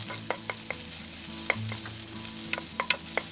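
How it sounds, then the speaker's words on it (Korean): Onions and carrots stir-fry in hot oil with a continuous sizzle, punctuated by sharp clicks and scrapes of a spatula against the pan. "늦게 익는 당근도 넣어서 볶아주세요."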